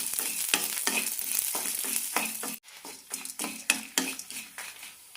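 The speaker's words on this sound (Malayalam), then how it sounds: "അണ്ടിപ്പരിപ്പും പരിപ്പുകളും ചെറുതായി ഒന്ന് ചുവന്ന് കിട്ടണം" Cashews and lentils frying in oil and being stirred in a pan for a vegetable kurma, with steady close sizzling and repeated scraping strokes of a utensil, no talking.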